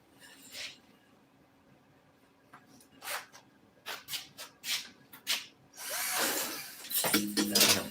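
Power drill whirring in short bursts in an auto upholstery shop during a Ford F-100 seat recover, intermittent spurts of motor noise separated by quiet handling sounds, ending in a longer louder run.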